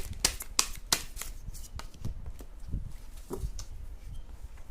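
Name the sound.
shuffling tarot cards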